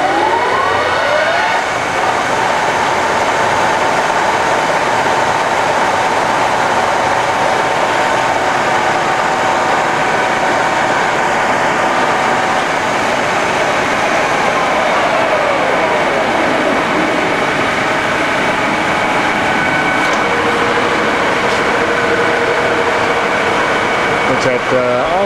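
A 1978 Cincinnati Milacron Model 550-25 VerciPower DH bed-type vertical mill hums steadily with its spindle running, giving a loud, continuous mechanical drone with whining tones that shift partway through.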